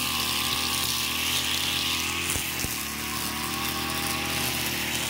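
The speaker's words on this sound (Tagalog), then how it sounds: "Grass cutter ngayon, gawa nga ng nagkapal masyado ang damo dito sa amin." A gasoline grass cutter running steadily through thick, overgrown grass outdoors, with a loud continuous buzzing engine drone and a couple of brief knocks.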